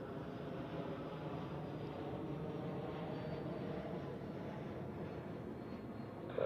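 A Swiss narrow-body airliner comes in to land on runway 14 at Zurich Airport, producing a distant, faint, steady jet rumble and roar that holds evenly throughout.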